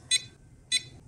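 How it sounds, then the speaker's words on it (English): Two short high-pitched electronic beeps from an RC car's brushless motor and ESC, set with a RadioLink AT10II transmitter, spaced about half a second apart over a low background hum. "You need to adjust it until you hear the second long beep from the motor"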